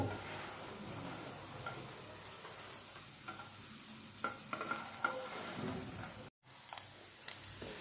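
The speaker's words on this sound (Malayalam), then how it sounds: "എണ്ണയിൽ തന്നെ നമ്മൾ ഉള്ളി വാട്ടാം" Onions sautéing in a little oil in a pan during a home sausage roast recipe, a soft continuous sizzle with occasional stirring scrapes and light ticks, fairly quiet, with a brief dropout near the end.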